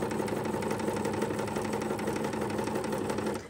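A sewing machine with a quarter-inch foot runs a narrow seam on flowing fabric, a steady, close, continuous mechanical whir that holds level throughout and drops off only at the very end.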